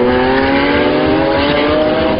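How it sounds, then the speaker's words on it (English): A 2012 Lamborghini Aventador LP 700-4 accelerates hard on the Vallelunga circuit, its engine note rising in a loud, sustained, harmonic-rich roar that fills the whole moment without any talk. "Whether speeds are double or triple digits, the engine pulls, and pulls strongly."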